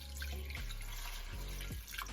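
Water pouring steadily into a pot holding chicken for poaching, a continuous close splashing stream with a few brief shifts in flow.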